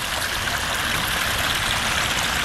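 Water rushes through a ribbed concrete drainage channel in a park, a loud, continuous broadband flow like a small stream or cascade, steady throughout with no voices.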